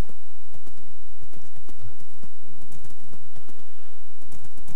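Horse hooves clip-clop in Minecraft, a quick, uneven run of soft hollow knocks in a game setting, fairly close and alone without talk.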